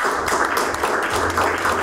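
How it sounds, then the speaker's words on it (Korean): Audience applause at a Seoul Metropolitan Council environment and water resources committee forum on preventing sexually transmitted infections, a steady wash of many hands clapping throughout the short stretch, fairly distant and even in level. "큰 박수로 맞아주시기 바랍니다."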